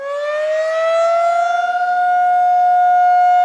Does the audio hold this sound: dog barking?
no